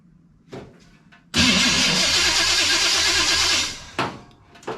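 1974 Pontiac Ventura engine cranking and catching: a few short starter grinds, then a sudden loud burst of rough, pulsing engine running for a couple of seconds that dies away, followed by more brief cranking attempts.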